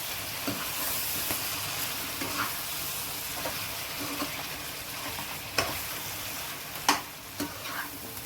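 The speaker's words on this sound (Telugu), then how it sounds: "జీలకర్ర పొడి తగినంత ఉప్పు వేసుకుందామండి ఇది కొంచెం బాగా ఫ్రై చేసుకుందాం" Bitter gourd and chicken with cumin powder, coriander powder and salt frying in a pan, a steady close sizzle with occasional scrapes and clinks of stirring, no voices.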